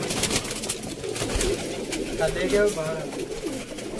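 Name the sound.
pigeons cooing at a pigeon-keeping loft in Sialkot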